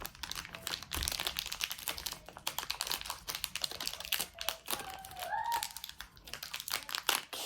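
Crinkly plastic packaging being handled and torn open to free small sharp items with rubberized grips, a dense run of close, irregular crackles and rustles.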